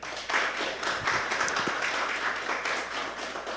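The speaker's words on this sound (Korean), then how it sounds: "큰 박수로 맞아주시기 바랍니다." Audience applause greeting a guest lecturer at the opening special lecture of a community college term, a steady, dense wash of clapping that continues throughout without voices.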